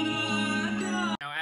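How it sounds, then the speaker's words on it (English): A short sustained melodic sample pitched down three notes, one held tonal phrase that cuts off abruptly near the end before a brief restart. "pitch it down three notes. Now it should sound like this."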